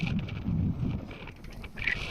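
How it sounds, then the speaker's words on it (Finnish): Wind gusting across an exposed, windy spot, a low rumbling buffet on the microphone that rises and falls without letup, loud and close. "Vähän tuulinen paikka."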